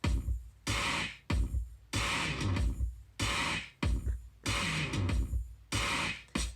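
Heavily distorted industrial drum loop crushed with Decapitator saturation, a loud pounding pattern of dense broadband hits in short repeating bars with brief gaps between phrases.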